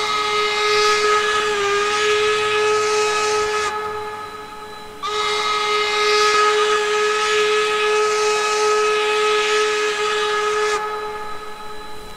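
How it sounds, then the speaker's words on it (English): Steam whistle of a K&L N&W 4-8-0 locomotive in the Trainz 2019 simulator, two long, loud chime blasts with a hissing edge, separated by a short gap. "So here's a whistle."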